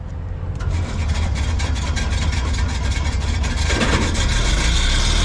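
A rough, sputtering tow-behind air compressor engine on a truck chugs steadily and loudly nearby after a brief start, its uneven firing giving a coarse, rattling drone.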